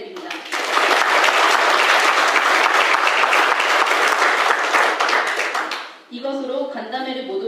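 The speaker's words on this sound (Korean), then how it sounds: "오늘 질문 하나하나에 귀감이 되는 답변을 해주신 청장님께 뜨거운 박수 부탁드립니다." A large audience at a community meeting gives loud, dense, sustained applause for a police commissioner, lasting about six seconds before cutting off as a voice begins speaking.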